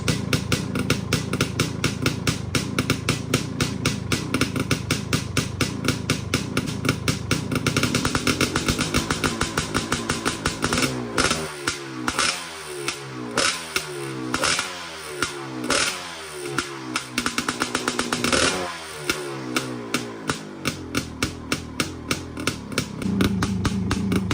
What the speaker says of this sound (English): So I don't think there's a better sounding idle on any ATV.